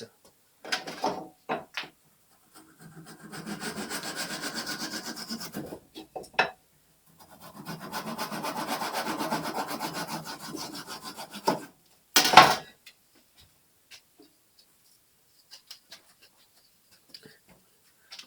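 Hand saw cutting the cheeks of a wooden tenon on a stool leg, two sustained rasping stroke passages close by, separated by short knocks and a sharp clack, then near silence.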